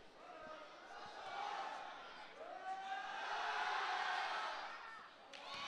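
Gym crowd murmuring and shouting during free throws at a boys high school basketball game, a steady loud roar of many voices, with occasional ball bounces.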